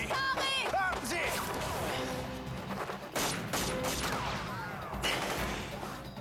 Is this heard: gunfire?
yes